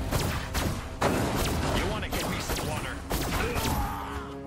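Several dull, rumbling explosive blasts in Destroy All Humans! go off one after another, up close and booming, amid continuous noisy game action.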